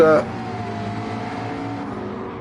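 Gran Turismo 7 race cars run at Goodwood, a steady engine drone with harmonic whine holding throughout after a brief louder burst at the start, with no talk over it.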